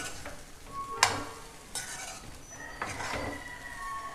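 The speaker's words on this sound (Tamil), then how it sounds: "சாதத்தை சேர்த்து மிக்ஸ் பண்ண வேண்டியதுதான்." A spoon stirs cooked rice into a coconut rice mixture in a pan, giving soft scraping and occasional clinks against the metal over a faint sizzle, with no one talking.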